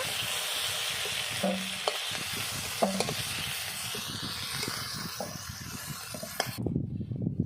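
Pieces of rohu fish frying in hot oil in a pan, a dense continuous sizzle and spitting hiss with scattered crackles and stirring clicks, close and loud, cutting off abruptly at the end.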